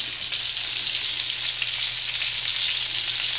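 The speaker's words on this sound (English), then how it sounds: "So it's frying." Steady, close sizzling of food frying in a pan, a continuous crackling hiss with no voices.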